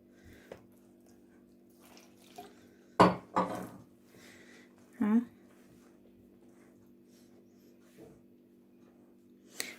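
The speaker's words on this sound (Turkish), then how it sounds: "Yavaş yavaş bir ılık su koyarak ilave ediyoruz. Hamurumuzu karıştıralım." Lahmacun dough is mixed in a bowl as lukewarm water is added bit by bit, making sparse clinks and scrapes of utensils against the bowl and wet knocks over a low steady hum, close and intermittent.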